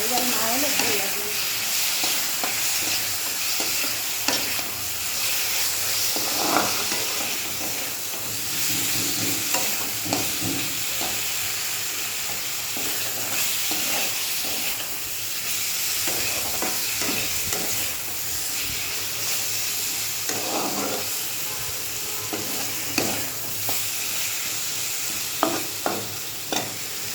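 Spices for a fish curry, with about two spoons of chili, fry in a hot pan while being stirred. A constant sizzle and hiss runs throughout, broken by repeated scraping and knocking of the spatula against the pan.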